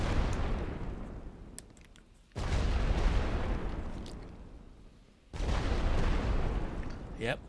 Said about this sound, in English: Enemy rolling barrage.